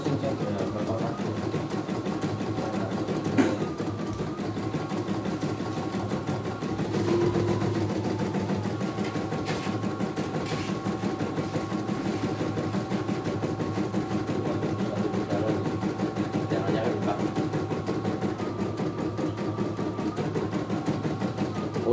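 A CNY E900 embroidery machine runs steadily, its needle mechanism chattering in a rapid, even rhythm with a low motor hum, close and continuous, with occasional clicks and shifts in tone.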